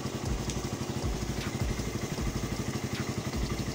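A Suzuki Raider R150 motorcycle engine with a DIY fullwave carburetor setup runs at a steady, faint idle, pulsing in an even rhythmic putter without rising in pitch.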